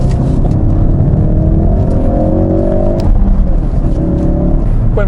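A Ford Focus RS engine holds a loud, steady, droning rev close by, its tone rising gradually and then settling, with no talk over it.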